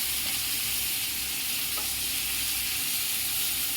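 Brinjal (eggplant) pieces coated in a yogurt-based masala sizzle and fry in a pan, a steady dense hiss that runs unbroken and fairly loud throughout.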